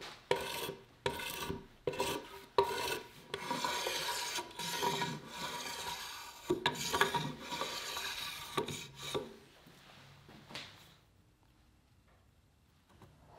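A white oak table leg is hand-shaped and rounded over with rasp or file strokes, a run of rhythmic scraping passes that stop toward the end, leaving near silence.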